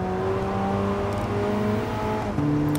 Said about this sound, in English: the car sounds pretty decent, I'd say, for a Gran Turismo game at least